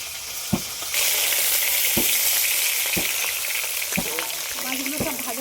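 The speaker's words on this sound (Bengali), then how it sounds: "মাছগুলো সব ভাজা হয়ে গেছে" Fish fried in hot oil gives a loud, steady sizzle and crackle, with sharp spatters and occasional clinks of a spatula stirring through the pan, close by and with no talking.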